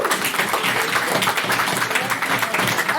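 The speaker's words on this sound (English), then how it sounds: "Let's applaud that." An audience at a debate meeting applauds, dense steady clapping filling the room throughout, with voices faintly mixed in beneath.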